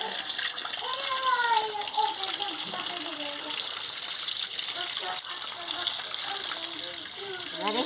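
Running water gushes steadily into a basin while straw mushrooms are washed, a continuous close splashing flow with a voice talking over it throughout.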